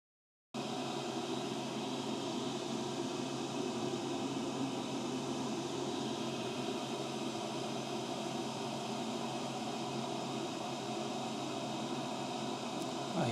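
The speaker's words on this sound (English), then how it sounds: "I hope you can see the smoke being sucked in by the extraction fan." Fume extraction fan on an AtomStack B3 laser enclosure, running while plywood is laser cut: a steady, even whoosh of moving air that starts abruptly and holds at a constant moderate level throughout, with no voices.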